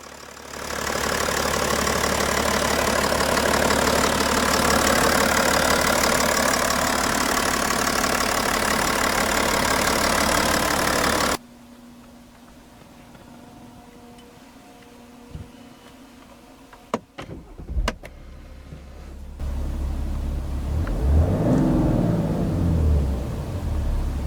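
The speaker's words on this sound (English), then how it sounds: "At just over 3000 RPM you can hear some of the wastegate noise." A BMW 730d three-litre twin-scroll turbo diesel runs loudly and steadily at first, then cuts to quieter rumbling with brief knocks and a rising whine near the end.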